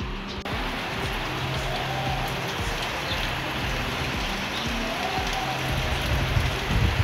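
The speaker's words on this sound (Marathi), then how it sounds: "पाऊस चालू झाला आहे खतरनाकवाला." A sudden heavy afternoon downpour: a dense, constant roar of rain beating on surfaces, steady and loud from start to finish with no talk.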